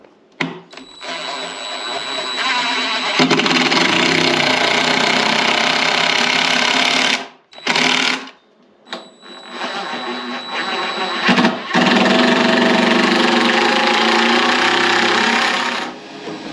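A power driver runs screws into a scrap-wood brooder frame, a loud sustained motor whine broken by brief pauses between screws, with no talking.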